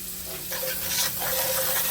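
Onions sizzle in a frying pan with a steady close hiss, broken by brief scraping stirs, loud and continuous with no talking.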